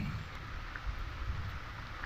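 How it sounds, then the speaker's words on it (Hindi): Heavy rain pours steadily at a hilltop temple on Siddhanath mountain in the afternoon, a dense continuous hiss with low rumbling beneath, even and unbroken throughout with no talking. "बहुत तेज़ की बारिश आ रही है"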